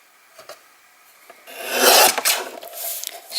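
A blade or trimmer slides across scrapbook card paper to cut off a one-centimetre strip, a short close rasping scrape after quiet handling, with a few softer rubbing strokes following.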